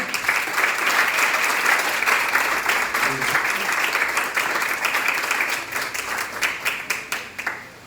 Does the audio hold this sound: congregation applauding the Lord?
yes